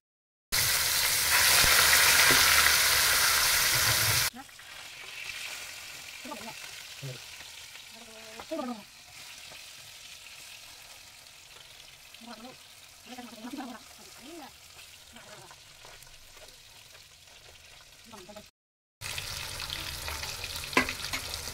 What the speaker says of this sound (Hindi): तो तेल काफ़ी गर्म हो चुकी है, तो अभी मैं यहाँ पर मछली दे देती हूँ फ्राई करने के लिए।